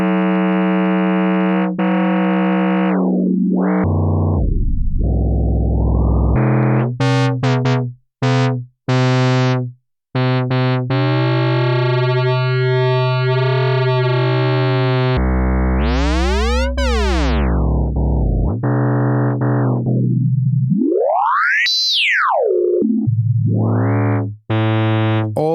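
Bright, buzzy modular synthesizer oscillator tones in VCV Rack with rich harmonics, sliding and sweeping in pitch, some sustained drones and sharp stutters, loud and continuous with no talking.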